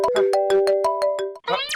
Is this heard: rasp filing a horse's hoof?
no